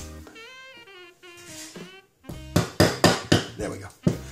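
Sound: hammering a pin into a Steyr L9 A1 pistol chassis

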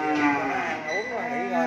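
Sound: cattle mooing on a cattle farm

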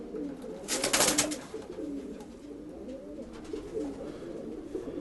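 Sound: pigeons cooing

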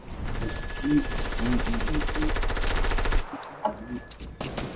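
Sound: SMG gunfire in the video game Fortnite

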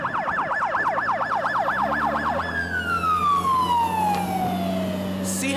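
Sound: fire truck siren passing DUI checkpoint

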